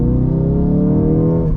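A Ford Bronco RC car in sport mode accelerating, a loud steady electric motor whine that rises slightly in pitch over a short continuous burst, close up and with no talking.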